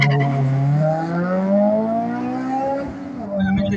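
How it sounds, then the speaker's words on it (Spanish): A Hyundai Genesis and a Honda Civic launch in a legal drag race, engines rising in pitch together as the cars accelerate hard, loud and close throughout, with a brief rougher burst near the end. "Jesús Acosta en el Hyundai Genesis 24 se enfrenta a Carlos Rosales, el Honda Civic del Team Drake"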